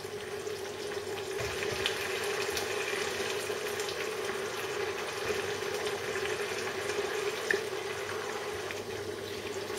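Mushroom risotto simmering in a pan over a lively medium-high flame as the broth cooks off, giving a steady, continuous bubbling sizzle that stays close and even throughout, with no talking.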